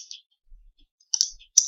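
A computer mouse clicks sharply in a quiet room while someone works in the Google Ads interface. There are a few brief clicks, the last two close together.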